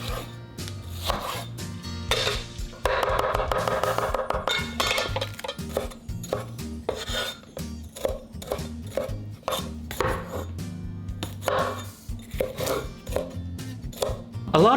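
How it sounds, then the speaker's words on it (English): A kitchen knife chops vegetables such as peppers on a board in a rapid, uneven run of crisp, close knocks with a few pauses and light clinks, and no voices. "Now we can cut up all the vegetables."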